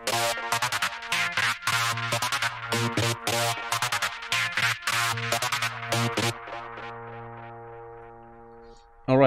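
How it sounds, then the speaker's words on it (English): A synthesized psytrance saw lead built in Serum with a high-pass filter fires rapid stuttering gated notes in a tight rhythm, bright and buzzy, then rings out on a sustained tone that fades away. "This is my recreation"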